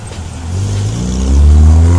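A Toyota Corona TT sedan with a 1800 3T engine at a retro car gathering, its engine rising in pitch and loudness over two seconds as it revs up nearby, a steady low drone swelling into a stronger roar.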